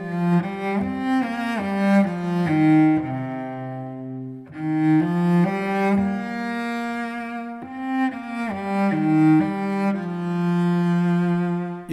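The Danny Boy melody is reworked on a solo melodic instrument using a pentatonic scale. Sustained, gliding notes come in slow phrases with brief gaps between them. It is close and clear, and no one speaks.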